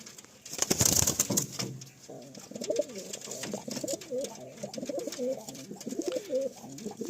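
Pigeons in a breeding cage at Rajarhat coo softly and steadily in overlapping, low rolling calls, after a brief louder rustle at the start.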